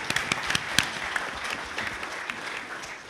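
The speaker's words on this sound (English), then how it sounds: "So round of applause for you guys." Audience applause fills a convention panel hall at San Diego Comic-Con, a steady wash of many hands clapping with a few sharper claps standing out, sustained throughout without speech.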